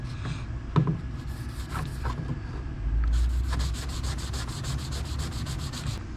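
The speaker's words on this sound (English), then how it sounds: "Just sand the pipe all the way down." Sandpaper rubbed along the inside of a plastic pipe while making a kayak keel guard, a steady close scratchy rasp running continuously with brief louder strokes.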